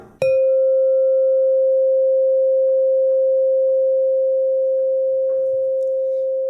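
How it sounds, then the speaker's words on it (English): A singing bowl is struck once and rings with a pure, steady tone that sustains and slowly fades over several seconds, with faint background noise. "So if I ring this bowl here,"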